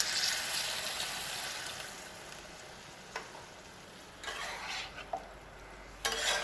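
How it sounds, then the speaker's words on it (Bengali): Warm water goes into a pan of fried spice paste for Bengali shukto, setting off a soft sizzle and hiss, followed by a spoon stirring and scraping against the pan in short intermittent bursts, close and fairly quiet. "মশলাটা কষানো হয়ে গেছে, এবার উষ্ণ গরম জল 1 কাপ দিচ্ছি"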